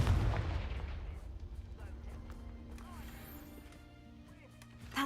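In the Hogwarts Legacy video game, a Confringo blasting spell sets off a loud booming explosion at the start that fades into a low rumble, with a short thump near the end.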